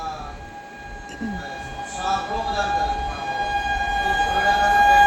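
An approaching Chhattisgarh Express hauled by a WAP7 electric locomotive sounds a long, steady horn tone that holds throughout, as rumble of the train grows louder toward the end.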